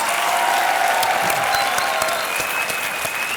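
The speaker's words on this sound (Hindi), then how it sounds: "तालियां" A studio audience on a Hindi TV game show bursts into loud, dense applause, a continuous close clapping roar with a few whistles and cheers over it.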